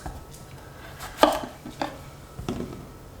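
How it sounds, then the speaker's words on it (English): A knife cuts through a zucchini on a cutting board. Three distinct strikes land about a second apart, close and fairly quiet, in an otherwise calm kitchen. "So we're going to take the zucchini and chop it into nice bits here."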